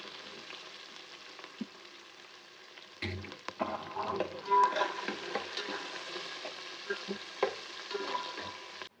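Onions dropped into hot oil with cinnamon, cloves, chillies and curry leaves for village-style chicken biryani, a sudden burst of sizzling that keeps frying steadily alongside stirring, close and moderately loud.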